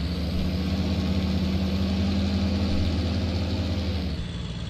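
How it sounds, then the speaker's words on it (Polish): A tractor engine in the Farming Simulator 19 video game drones at a steady, heavy idle, loud and constant, then cuts off abruptly just before the end. "Dostałem ciągnik, którym mogę poszaleć."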